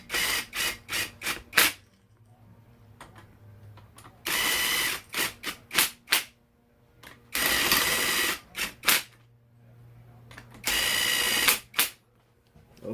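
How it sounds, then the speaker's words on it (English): An impact wrench seats cylinder head bolts on a Kawasaki KX dirt bike on its light setting, firing in repeated short rattling bursts and longer hammering runs, loud and close, separated by brief pauses. "I'm going to seat these down lightly with the impact first on the light setting"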